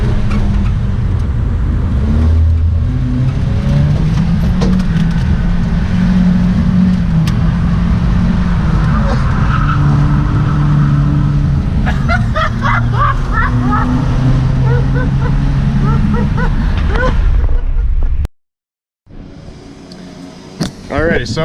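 A 90 whp automatic Volvo 940 with an open differential drifts on a highway onramp at about 100 km/h. A loud, steady engine drone runs under people talking, then cuts out briefly near the end before resuming.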